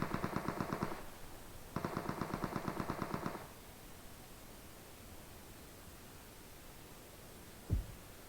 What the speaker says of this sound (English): is Reaper getting shot at by Bones while he runs away from the crate